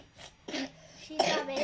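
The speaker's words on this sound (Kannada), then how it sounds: "ಹಾಂ, ಕೆಮ್ಮು ಬೇರೆ ಆಗಿದೆ ನೋಡಲ್ಲಿ, ಎಷ್ಟು ಕೆಮ್ಮಾಗಿ ಹೋಗಿದೆ." A feverish young boy coughs in two short, harsh bursts, close to the microphone, with a quiet pause between them.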